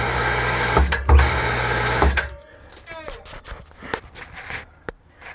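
A solenoid valve on an automated filter cleaning system switched on and off, a loud pneumatic hiss or buzz cutting off abruptly, followed by clicks and mechanical noises with a voice talking.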